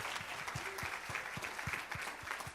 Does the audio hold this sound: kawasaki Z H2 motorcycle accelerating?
no